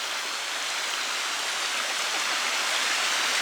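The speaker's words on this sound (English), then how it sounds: "Mini waterfall." Water pours steadily in a small waterfall in New York, a dense, even rushing and splashing that continues without a break.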